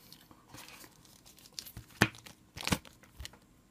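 A plastic Ziploc bag from a Monstrous card game box is handled, giving soft, scattered crinkles and two sharper rustling bursts, close and quiet, with no voices.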